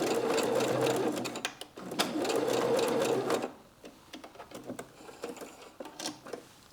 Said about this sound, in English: And I will backstitch.